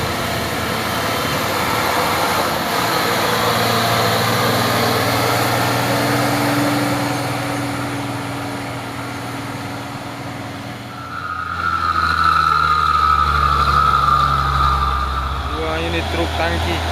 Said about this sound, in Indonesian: Suara turbonya pun mantap